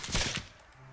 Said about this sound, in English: I am glad I have a good pistol.